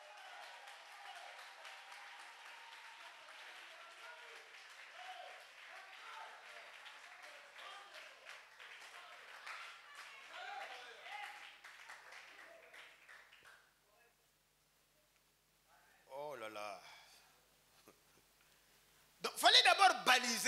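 A church congregation at a Christian teaching seminar applauds in praise of the Lord, a dense, sustained wash of clapping that fades out. A voice then speaks over a short burst of renewed applause.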